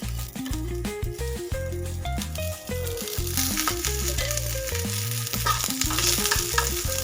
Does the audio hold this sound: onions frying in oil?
yes